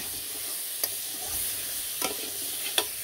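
Spices with turmeric, chili and a five-spice mix frying in a pan, a steady sizzle with a few brief stirring scrapes at close range.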